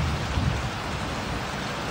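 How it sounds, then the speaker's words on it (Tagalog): Heavy rain pouring down on a flooded town, a loud, steady hiss of rainfall with a faint low rumble underneath, continuous and without a break. "Bumuhos din ang malakas na ulan sa bayan ng Midsayap."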